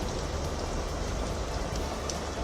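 Heavy monsoon rain pouring down in Mumbai, a dense, steady hiss of drops on surfaces, loud and unbroken with no voices.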